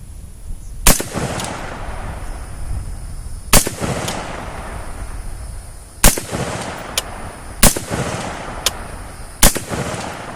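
Radical Firearms RF-15 AR rifle firing rounds on a range, with six loud, sharp, close shots spaced irregularly a second or two apart and a faint hum between them.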